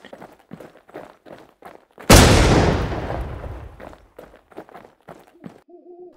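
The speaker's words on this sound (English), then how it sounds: "I'm gonna test the grenade first with full gear." A frag grenade blasts in the Infestation video game with a single sharp, loud boom that decays slowly over about two seconds, between soft rhythmic hooting or pulsing game ambience before and after.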